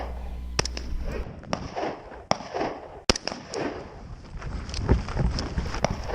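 Sharp rifle shots at an outdoor shooting range during a multi-position standing, kneeling and prone course, with several loud isolated cracks spaced irregularly over wind noise and background bustle.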